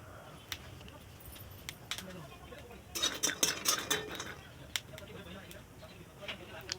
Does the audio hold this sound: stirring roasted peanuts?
yes